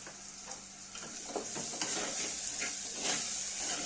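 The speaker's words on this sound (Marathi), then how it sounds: "ही एकसारखं चांगलं भाजून घेऊया." Masala spices with a couple of spoons of everyday chutney dry-roasting in a pot as mutton handi is made, a steady close sizzle with scattered scraping stirs throughout.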